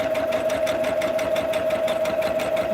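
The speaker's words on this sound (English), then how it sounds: "So we're just sewing on that line." A sewing machine stitching along a line on a quilt, running steadily with a fast, even mechanical whir and a strong steady hum, close and loud throughout with no pauses.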